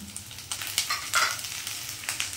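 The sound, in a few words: chopped onion and garlic frying while being stirred in a pan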